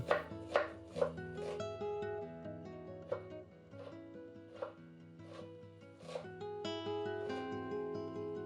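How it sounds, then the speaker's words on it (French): A knife finely chops half a small onion on a board, giving a series of crisp, irregular taps over quiet background music, with no speech. "Commencez par ciseler un demi-petit oignon."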